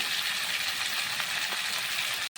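Peas and potatoes are stir-fried in a pan with tangra fish and cauliflower, giving a steady, close, dense sizzle throughout with no talking.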